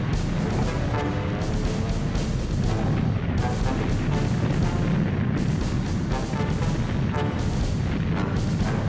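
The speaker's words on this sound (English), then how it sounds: "October 20th, 1944, just before dawn, the naval bombardment commenced." A 1944 naval bombardment by 16-inch battleship guns and rockets rolls on as a dense, continuous roar of distant booms and rumbling blasts, loud and unbroken, with no voices.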